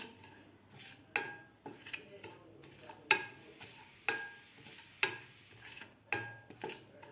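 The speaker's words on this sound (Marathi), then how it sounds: "मिक्सरमधून काढलेली मोहरी आपल्याला थोडीशी हलवून घ्यायचे आहे गरम करून घ्यायचे आहे" Ground mustard is stirred in a hot pan for pickle-making. A spoon scrapes against the pan in a steady series of short, rhythmic strokes, close and fairly soft, with no one speaking.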